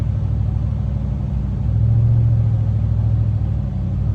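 Old Ford tractor engine labors under load while pulling a tree with a boom pole, a loud steady low rumble that swells briefly as the engine works harder, close by with no talking.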